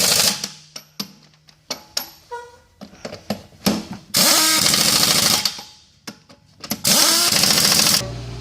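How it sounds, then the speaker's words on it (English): An impact wrench runs in loud, sustained bursts while tightening lug nuts onto a tire in a shop, with shorter clanks and ratcheting taps between the longer runs. "get a few lug nuts on, and then we'll be able to use the impact wrench"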